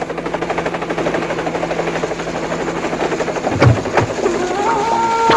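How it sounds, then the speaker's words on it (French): A helicopter arrives with a loud, steady rotor chop that pulses rhythmically throughout, joined near the end by a couple of sharp thuds and a rising engine whine, with no speech. "Un hélicoptère. Qu'est-ce qu'il vient faire ici?"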